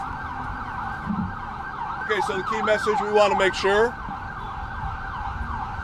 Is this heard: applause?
no